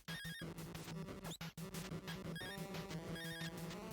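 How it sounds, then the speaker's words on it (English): Electronic phone-like ringing and chirping from a boss in the retro game Demon Sword, repeated warbling tones over busy chiptune music with a short dropout in the middle. "He's trying to call me on my cell phone."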